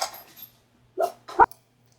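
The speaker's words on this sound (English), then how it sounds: "One of my dogs would not stop barking" A dog barks indoors, starting with faint muffled noise and then two loud, sharp barks close by, the second one the strongest, followed by quiet.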